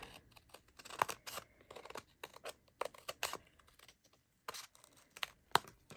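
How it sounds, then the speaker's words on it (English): Quiet, scattered snips and crisp crunches of scissors cutting paper, irregular and close, with short silences between cuts. "you take your scissors and you're going to cut this off"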